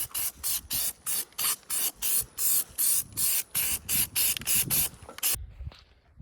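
Spray paint hisses onto a vehicle in about fourteen short, evenly spaced bursts, close and loud, before cutting off into near silence.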